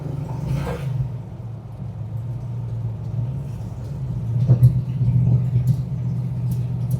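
A 1967 Dodge Coronet R/T 440 two-door hardtop rumbles while driving, its V8 giving a low, steady drone that swells briefly louder about two thirds of the way through. The sound is heard from inside the car, with no talking.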